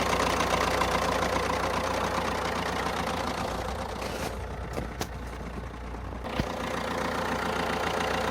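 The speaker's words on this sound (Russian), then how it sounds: "посторонний звук. Сейчас, когда выжму сцепление, он пропадет." A cold Fiat Tipo 1.6 MultiJet diesel idling with an extraneous noise, a steady close low rumble with faint knocking, briefly dipping and changing partway through, no voices.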